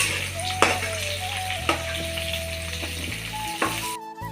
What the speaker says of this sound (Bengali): আমি ফ্রাইড রাইসে দেওয়ার জন্য যে আলুটা লাগবে সেটা আমি ভালো করে ভেজে নিচ্ছি।